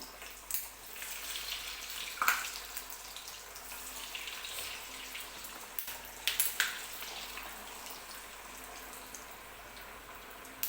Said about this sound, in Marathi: इथं तेल पण गरम झालेलं आहे आता आपण वडी तळून घेऊया